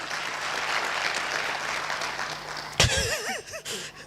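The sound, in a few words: audience clapping for a speaker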